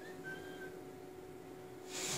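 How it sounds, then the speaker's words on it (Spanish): A character whistles in the Assassin's Creed III video game, a faint, thin whistle tone drawn out briefly over a steady, low game background hum. "Vamos a silbar a este."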